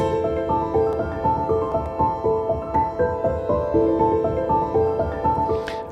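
Plucky synthesizer preset, a tweaked version of the default Punchy Plucker patch, plays a steady pulsing pattern of short repeated notes with a bouncing rhythm, moderately loud and alone.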